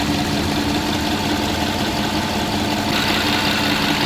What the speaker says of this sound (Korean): 정비 완료된 후에 엔진 소리를 좀 들려드리려고 촬영 중에 있습니다.